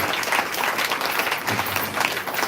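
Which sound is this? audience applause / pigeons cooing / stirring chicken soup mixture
audience applause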